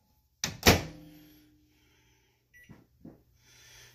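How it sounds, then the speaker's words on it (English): A microwave oven door thumps shut, loud and close, with a brief ringing decay as butter goes in to melt. After a pause comes a short electronic beep, then a couple of soft button presses before a faint hum starts. "We're going to put it in the microwave"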